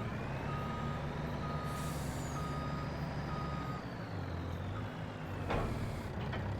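A Mack truck reverses to hook up a lowboy trailer, its steady rhythmic reversing beeps over a low diesel idle, with a whining tone and a short air-brake hiss near the end.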